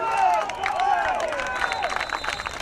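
At an American football game between the Lowlanders Białystok and the Zagłębie Steelers, a crowd applauds and cheers in a steady, busy patter of clapping, with shouting voices mixed in throughout.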